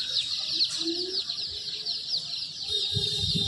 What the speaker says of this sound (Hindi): मुर्गी देखी बिकाता बक्सा में बंद करके।